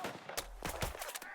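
Gunfire in the WWII leadership game Burden of Command, a few quick rifle or machine-gun bursts in close succession with sharp cracks and low thumps, loud and mixed with game battle ambience.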